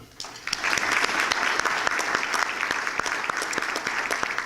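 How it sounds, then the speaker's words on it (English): Steady applause from a room of attendees at a chamber of commerce breakfast, a full, even patter of many hands with a few crisp claps poking through, kept up for several seconds. "So if we could have a round of applause for them."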